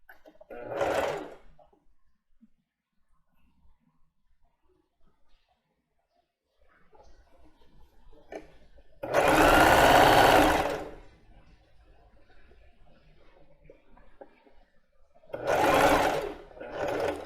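A domestic sewing machine runs in three separate bursts while sewing a backstitch on plus-size underwear: a short run, a longer loud whirring stretch, then another, with quiet pauses and faint handling between.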